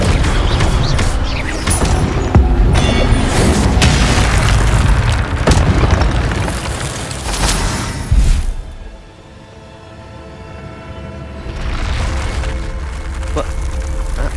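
A booming Incendio fire spell blast in the Hogwarts Legacy video game, loud explosive bursts in a busy spell-casting sequence, then a sudden drop to quieter ambience before sound swells again.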